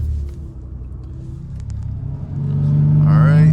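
A manual-transmission car idles low, then its engine rises into a louder, steady rev as the driver brakes and shifts gears, with a person talking briefly in the cabin.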